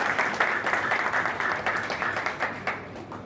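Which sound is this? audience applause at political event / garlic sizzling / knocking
audience applause at political event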